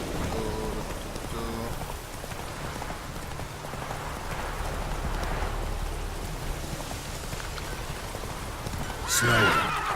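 Roach, the horse in the video game The Witcher 3, gives a whinnying neigh over steady rain and clip-clopping hooves, and a sharp, loud burst of sound lands near the end.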